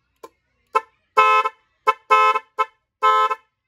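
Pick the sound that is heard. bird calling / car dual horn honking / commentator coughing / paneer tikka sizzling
car dual horn honking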